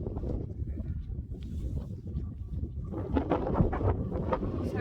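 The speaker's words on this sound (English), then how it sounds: "So windy. Oh, walking into the wind." Strong wind buffets the microphone in a steady low roar on a hike in the Yorkshire Dales, growing rougher and louder in the second half, with a faint voice briefly under it.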